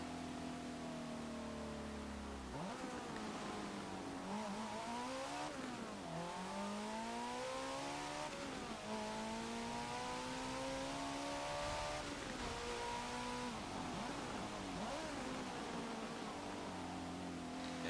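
A 1995 Audi RS2 Avant races in the Forza Motorsport 7 video game, its engine note climbing and dropping through repeated gear changes. The revs stay continuous and prominent throughout, with no talk.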